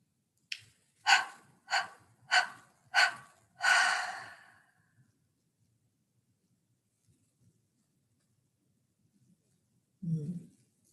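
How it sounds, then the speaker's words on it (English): Five short, sharp inhalations in steady rhythm, then one longer drawn breath during a guided breathing exercise, close and clear, followed by long silence and a faint low sound near the end. "So let's do it again, breathing in deeply."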